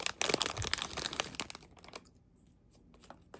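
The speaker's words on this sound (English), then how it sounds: "tearaway package." Close, crinkly tearing and crumpling of a tearaway plastic package around a Halloween bucket, a dense burst of rips that fades into a few sparse rustles.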